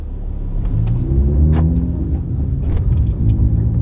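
A VW 2.5 five-cylinder with a Stage 2 tune pulls away, giving a close, steady low engine rumble that swells gently as it drives off, with a few brief clunks and no talk.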